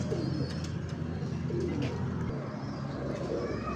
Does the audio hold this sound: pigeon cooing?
yes